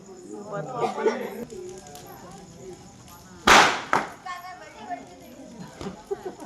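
A sharp, loud firecracker burst at a Karthigai Deepam festival celebration cuts through chatter, followed by a few smaller pops amid people talking nearby.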